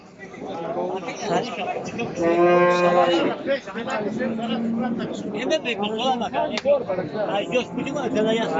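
At the Bokhtar livestock market, where cattle and goats are sold, a cow gives one long, loud moo from close by amid steady crowd chatter and talk.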